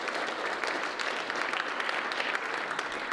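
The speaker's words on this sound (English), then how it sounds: "give them a round of applause, please." Steady applause from the audience at a high school football awards ceremony, a soft, even wash of many hands clapping at a moderate distance with no talking.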